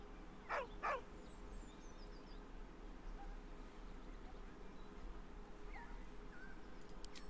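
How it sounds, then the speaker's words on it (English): A dog in the video game Baldur's Gate 3 gives two short, quiet whining yelps near the start, then only a faint steady background hum remains. "With a deep, heartbroken whine, the dog bows his head."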